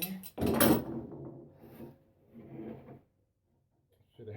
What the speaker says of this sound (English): Move these clamps out the way.